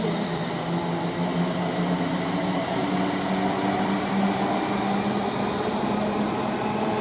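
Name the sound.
Class 350 train departing Rugby station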